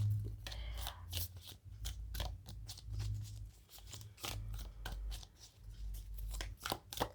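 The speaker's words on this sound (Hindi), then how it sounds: "सबसे पहले लव ओरेकल में शफल कर लेती हूँ" A deck of love oracle cards shuffled by hand during a card reading, giving quiet, rapid papery riffles and soft slaps in repeated bursts.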